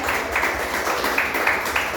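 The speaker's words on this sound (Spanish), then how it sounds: "dale hoy un aplauso al Señor, de gozo" A church congregation applauds during a service, a dense continuous burst of clapping with rhythmic accents and loud room noise throughout.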